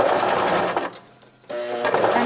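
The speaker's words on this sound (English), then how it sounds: "And I'm going to continue sewing this up." A sewing machine stitches in an invisible zipper with a steady, close mechanical whir. It stops briefly and then resumes running.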